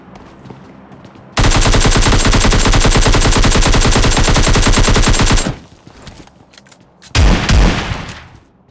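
Sustained automatic gunfire from a Groza rifle in PUBG Mobile Lite roars loudly for about four seconds, followed by a short pause and a second brief, heavy burst; no talk.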